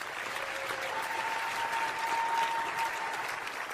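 Audience applause at a live stand-up comedy roast, a steady, dense wash of clapping that holds at even loudness throughout, with no talk over it.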